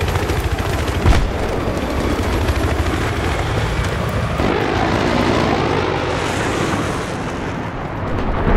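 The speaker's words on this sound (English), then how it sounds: "Spotted a hostile helicopter in your area" A hostile helicopter in the Battlefield 3 video game thrums loudly and steadily through a busy battlefield, with a few bursts of gunfire mixed in.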